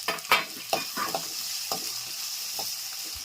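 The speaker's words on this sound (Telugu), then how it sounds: "సన్నగా చాప్ చేసుకున్న అల్లం ముక్కలు, తెల్లగడ్డలు, అలాగే ఎర్రగడ్డలు అన్నీ వేసేసుకొని ఒక 2 మినిట్స్ వేపుకుందాము" Finely chopped ginger, garlic and onions frying in oil, a bright close sizzle punctuated by several sharp spatula scrapes and clacks against the pan early on that thin out toward the end.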